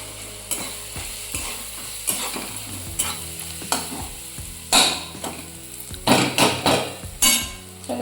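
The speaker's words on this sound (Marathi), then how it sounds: "हिरवी मिरची लसूण काढलेला ह्याला तळूया आपलं" Green chillies and garlic fry in a pan for a Marathi village-style safflower greens dish, with sizzling under repeated scraping stirs and sharp utensil knocks against the pan, close and fairly loud.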